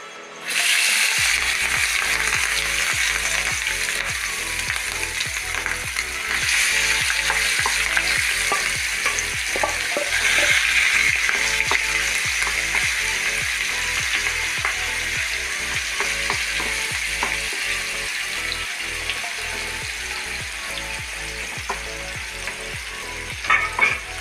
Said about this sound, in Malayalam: എന്നിട്ട് ഞാൻ ഇപ്പോൾ അത് വറുക്കാൻ പോവാം.